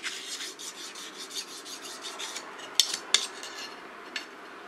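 A Japanese sashimi knife with a little rust on its blade is sharpened on a whetstone, making quiet, rhythmic rasping strokes close by, with a couple of sharper metallic clicks near the end.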